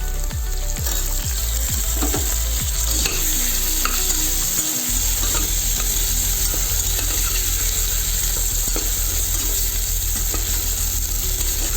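Tomato pieces with turmeric frying in a pan for an eggplant and black-eyed pea curry: a loud, continuous close sizzle with a few early stirring scrapes and a low hum underneath, no voices.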